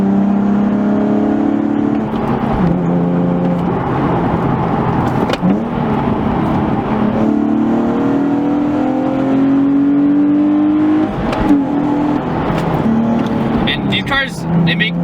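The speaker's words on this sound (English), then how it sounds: "It's finished off with a nice little Borla catback, which makes really, really nice noises." A 2011 Nissan 370Z with a Borla catback exhaust and limited-slip differential, its engine droning and revving steadily in rising and falling sweeps, loud and close throughout, with a voice talking over it.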